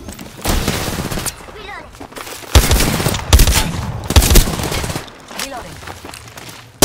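Rapid automatic gunfire bursts in the battle royale game Apex Legends, loud sustained volleys with several sharp impacts, mixed with game voice lines and talk over the shooting.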